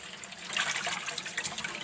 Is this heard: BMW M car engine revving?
no